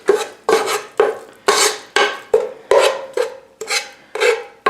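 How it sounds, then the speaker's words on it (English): Flour and butter being mixed into a paste for cheesy scalloped potatoes: about ten steady, rhythmic scraping strokes rasp against the bowl, close and fairly loud, with no talking. "I'm going to mix this up with the butter until I have a paste"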